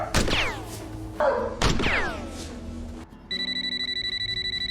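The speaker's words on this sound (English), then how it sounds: "Did the guy's phone ring and then he got a text?" Two sweeping electronic tones and a thud give way to a rapid, pulsing phone ring that repeats steadily at the end.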